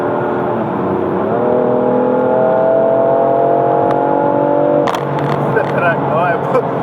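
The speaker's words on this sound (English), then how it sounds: "This inline 6 twin turbo sounds absolutely beautiful." A BMW M4 Competition's inline six twin turbo engine pulls hard, its loud note rising smoothly through a long acceleration before a sharp shift, heard from inside the car.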